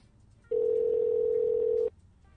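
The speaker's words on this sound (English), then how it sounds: "Shauna, we got disconnected somehow" A steady, loud phone-line tone on a radio morning-show call that has just dropped, sounding alone for just over a second after a quiet lead-in and then cutting off abruptly.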